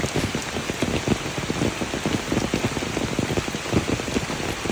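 Heavy rain pours down outside, a dense, steady hiss of drops striking surfaces, continuous and fairly close with no voices.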